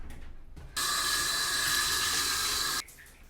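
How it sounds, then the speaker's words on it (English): A tap opens and water gushes steadily for about two seconds while feet are washed, then shuts off, sounding close and loud in a quiet room with no talking. "Hold on, I gotta wash my feet."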